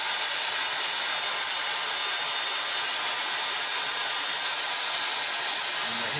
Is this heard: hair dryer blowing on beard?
yes